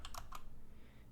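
A few quick keystrokes clack on a computer keyboard nearby, three crisp taps in a row followed by quiet.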